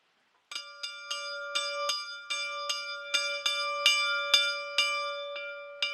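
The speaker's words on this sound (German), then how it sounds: "gleich ist es 12, die Glocke läuten" A church bell tolls at noon, a dozen or so even, ringing strokes about half a second apart, each one layered over the sustained hum of the last, clear and steady with no voices.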